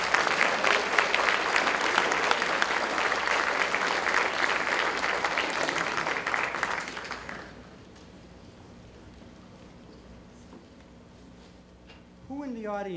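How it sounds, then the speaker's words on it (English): An audience at a high school Flag Day ceremony applauds steadily for about seven seconds, then the clapping fades to a quiet room before a voice begins speaking. "if you give a nice round of applause, please"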